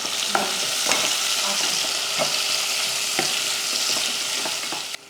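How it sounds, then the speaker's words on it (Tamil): Large onions sauté in hot oil with cardamom, cloves and cinnamon, giving a steady close sizzle broken by scattered scraping and stirring knocks from a utensil in the pan. "ரெண்டு பெரிய வெங்காயம் சேர்த்து வதக்கிடலாம்"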